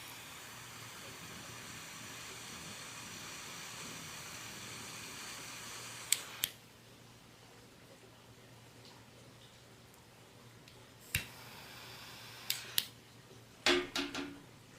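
A Rocky Patel Envoy 5 torch lighter lights a cigar indoors: a faint steady hiss, then several sharp clicks of the ignition and short bursts near the end, quiet overall with no talk.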